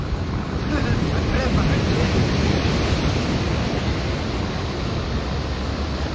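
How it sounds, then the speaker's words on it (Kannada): Continuous loud roar of surf and wind buffeting the microphone on a Kerala coast beach, a broad steady rush of waves with no clear breaks. "ಇದೊಂದು ನೋಡಿ ಅದು ಅಲೆಗಳು"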